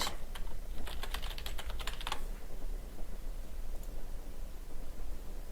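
Short bursts of quick key taps on a computer keyboard entering a password, close and fairly quiet over a steady background hiss, then the typing stops.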